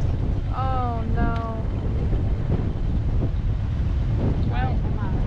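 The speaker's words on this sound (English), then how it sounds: "And it's windy now." Steady wind roars and buffets the microphone throughout as a storm approaches, with a few brief voices heard faintly over the gusts.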